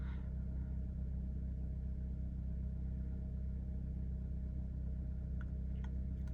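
A 10th-generation Honda Accord with the 1.5-litre turbo L15BE engine idling after a cold start, a steady low rumbling drone with no revving, heard alone at a constant level.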